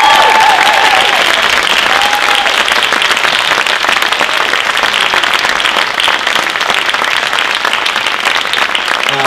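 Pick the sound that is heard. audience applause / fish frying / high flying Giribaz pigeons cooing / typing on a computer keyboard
audience applause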